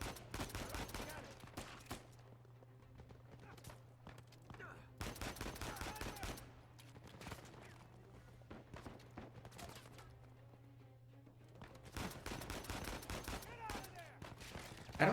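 Rapid bursts of gunfire in the video game Uncharted 4 come in repeated volleys over a steady low hum, loud and busy, with quieter stretches between the heaviest exchanges.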